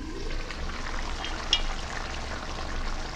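Sambar with pumpkin pieces simmering in a covered pot on the stove, giving a faint, steady bubbling and crackling hiss with one small pop partway through, no voices.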